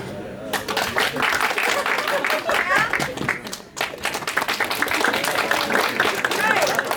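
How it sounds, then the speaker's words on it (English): An improv comedy audience claps loudly and fast, a dense, sustained burst of many hands that swells and dips briefly midway before carrying on. "Louder claps to get them off."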